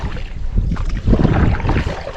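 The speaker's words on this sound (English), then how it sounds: "Right directly into the wind." Strong wind buffets the microphone while kayaking on the River Tay near Perth, a continuous rough roar with gusty swells and faint water sounds, no talking.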